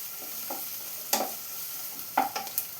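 Crushed ginger and garlic sauté in a hot pan with a soft, low sizzle, broken by a few sharp scrapes and clicks of a stirring spoon.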